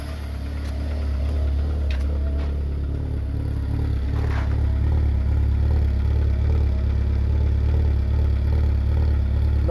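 Hyundai i20 engine with a blown head gasket idles roughly and surges by itself, a steady low rumble with uneven revving and mechanical clatter, loud and close, with no talk over it.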